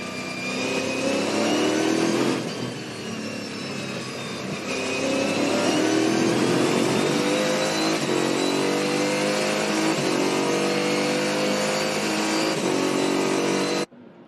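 An onboard race car at Winton Motor Raceway revs hard through quick paddle-shift gear changes on its transaxle, the engine note climbing and dropping sharply with each shift, loud and continuous.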